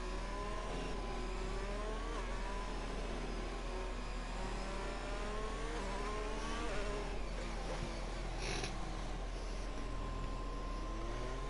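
Race cars in the F1 2021 video game drive slowly through the Russia circuit pit area, producing a steady engine whine and revving that rises and falls across several overlapping cars.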